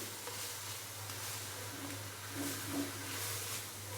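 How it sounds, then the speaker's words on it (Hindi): Soft, steady sizzle of Maggi masala, ketchup and a little water frying and being stirred in a pan, close but quiet, with faint scraping as the spices cook. "और मसाले को भून लेंगे तकरीबन 1 से 2 मिनट के लिए"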